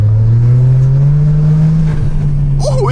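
A Toyota GR Corolla engine revs loudly and steadily while driving, a close, sustained drone with a rising pitch near the end.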